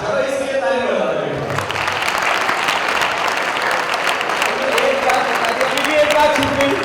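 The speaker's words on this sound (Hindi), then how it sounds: "चलो इसके लिए ताली बजा दो।" A large audience at a Patanjali yoga gathering breaks into loud, sustained applause, dense clapping filling the whole stretch after a brief moment of voice at the start.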